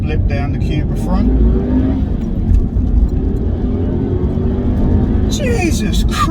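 A new 250-brake-horsepower manual car rumbles loudly and steadily as the driver blips the throttle along a seafront road, a deep continuous engine drone with rising revs, while someone talks over it near the end.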